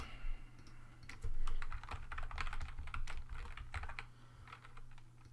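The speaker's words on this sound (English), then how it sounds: "So if I type in some text" Rapid typing on a computer keyboard, a steady run of close, crisp key clicks with irregular rhythm and a few louder strokes, over a low constant hum.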